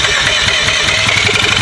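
A reluctant car engine that only runs at full throttle, suspected fuel pump trouble, cranks with a rapid, loud pulsing churn that fills the short moment up close with no pause.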